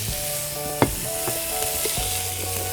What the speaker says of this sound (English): And now I'm just going to throw the beef in.